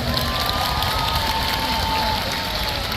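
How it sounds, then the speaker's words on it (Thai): Concert crowd at a 90s hits show roars with continuous cheering and shouting, a loud unbroken wall of voices and scattered clapping with no distinct talk above it. "ปรบมือให้กับไทยประกันชีวิตด้วยครับ"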